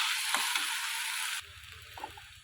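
Potatoes roast in a pan with a loud, steady frying hiss that cuts off abruptly partway through, leaving a faint low hum and a couple of soft stirring clinks; no one talks.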